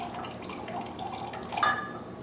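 Sherry vinegar pours into a measuring cup in a short, soft liquid trickle that swells briefly near the end, close and quiet with no talking.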